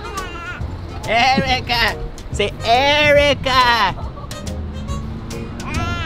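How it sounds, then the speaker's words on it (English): Sheep bleating loudly and repeatedly at close range on a farm visited during a pumpkin outing, the wavering calls overlapping with people talking nearby. "Look, guys, look, the sheep."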